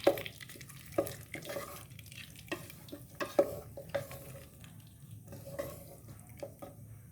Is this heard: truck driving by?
no